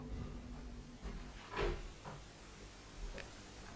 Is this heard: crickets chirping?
no